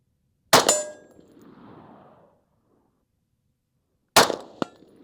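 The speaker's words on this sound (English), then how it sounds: "go ahead and finish your mag with whatever steel you want to hit" Two sharp rifle shots from a Steyr AUG ring out at an outdoor range, each followed by a metallic clang of steel targets, with a short fading ring after the first and a quick double impact after the second.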